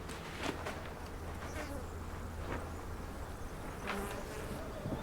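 Steady buzzing of many bees foraging around a beekeeper's hives at an old mountain village in Oman, a dense close hum with individual insects passing nearer now and then.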